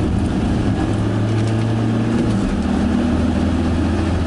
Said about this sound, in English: Van drag race, transit on transit